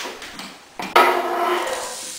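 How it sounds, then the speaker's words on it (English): Chopped onion hitting a hot pan for a sugo tomato sauce, breaking into a steady, close hiss of sizzling after a brief clatter of the pan, with no voice. "That's what you want to hear when you put food into a pan. You want to make sure that it is sizzling."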